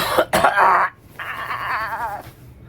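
Two harsh coughs close up, followed by a strained, groaning vocal sound.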